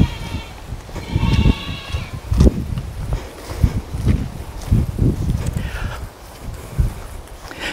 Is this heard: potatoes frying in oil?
no